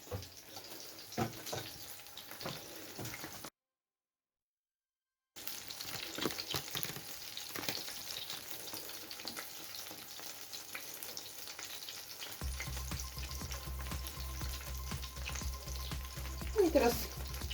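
Quiet, continuous sizzling of cheese, apple and rhubarb pancakes frying in a pan, with occasional clinks and a brief gap, then a low hum joins toward the end.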